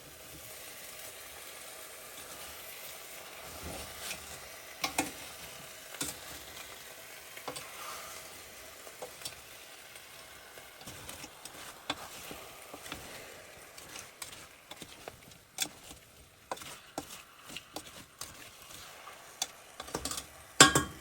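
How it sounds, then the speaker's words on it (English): Faint scraping and sloshing as a pot of mulled wine full of orange pieces is stirred, with small clicks and knocks scattered throughout and growing more frequent near the end, no voices. "we're going to try to stir it"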